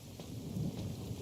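Rumbling thunder with rain in the video game Genshin Impact, a steady low roar with hiss of rainfall, swelling slightly near the middle and heard alone without voices.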